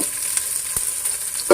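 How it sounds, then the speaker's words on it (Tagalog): Onions and garlic sauté in a home kitchen pan with a steady, close hissing sizzle, broken now and then by brief stirring scrapes; no voices. "So, gigisahin lang natin yan."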